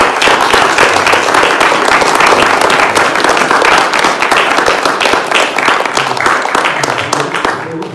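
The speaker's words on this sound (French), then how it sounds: "Tout d'abord, on va applaudir." A French-speaking audience at a monastery breaks into sustained, dense applause after a conference talk, the clapping loud and steady throughout before easing slightly at the end.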